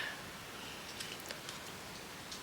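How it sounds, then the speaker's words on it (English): Rain falls on a balcony as a soft, steady hiss with faint scattered patters, heard alone at a fairly quiet level. "You can just hear the rain on the balcony."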